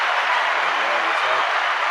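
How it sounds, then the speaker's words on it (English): Audience applause for a co-host on a business talk show about digital hustle and social media marketing, a dense steady wash of clapping filling the whole stretch at close range. "Let's give a round of applause to my co-host for the day, Mr. Israel"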